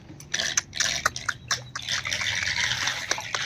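Rainwater pours from a roof drain that had been clogged with junk, a close trickling and splashing flow with irregular drips, steady and moderately loud, with no talking.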